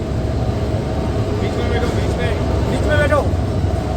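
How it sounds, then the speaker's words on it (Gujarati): Ropeway cable car on the Sundha Mata hill route running with a steady mechanical rumble and a brief rising whine near the end, while someone talks over it close by. "જોઈ શકો છો રોપવે ચાલે છે વિમાનની ટાઈપ."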